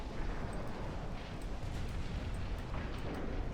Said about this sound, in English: Torpedoes away, torpedoes hit.